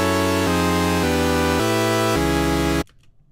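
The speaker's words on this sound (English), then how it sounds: "drag an instance of SERUM onto our chords here, and this is what it sounds like." A bright, buzzy Serum software synthesizer plays sustained chords, shifting through about five changes before cutting off abruptly into near silence.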